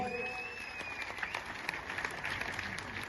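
An audience at a wrestling event claps in a brief, faint burst of scattered applause amid crowd murmur.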